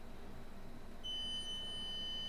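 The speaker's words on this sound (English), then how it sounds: "Continuity, it's probably going to beep because usually the values are pretty low." A multimeter gives a steady high continuity beep while probing a broken MacBook A1708 logic board, the tone starting abruptly partway through and holding constant over quiet room hiss.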